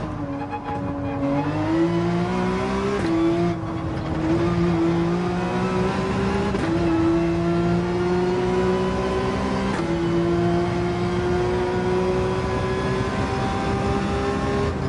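Porsche 911 engine in Gran Turismo 7 revving hard and climbing through repeated upshifts, each gear rising in pitch before a brief dip, loud and continuous.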